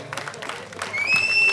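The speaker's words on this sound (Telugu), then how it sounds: "గట్టిగా చప్పట్లు ప్లీజ్." An audience claps briefly at a laddu auction held by a Ganesh festival association in Hyderabad; the applause starts moderately and swells over about a second and a half, with a voice heard near the start.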